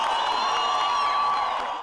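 Crowd cheering and applauding troops of the Federal Police marching in an Independence Day parade, a steady, dense wash of claps and shouts throughout.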